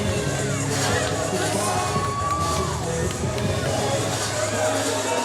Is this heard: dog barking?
no